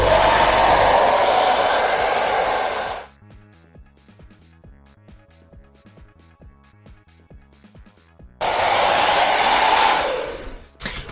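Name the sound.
hair dryer with diffuser drying hair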